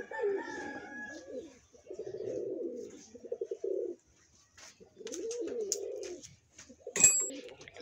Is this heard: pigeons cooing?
yes